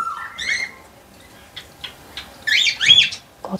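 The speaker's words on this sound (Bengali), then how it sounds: "কত রকমের পায়রা রয়েছে আর বদ্রি পাখি রয়েছে" Caged pigeons and budgerigars give scattered bright chirps and squawky chatter in short bursts, separated by quiet gaps in a calm setting.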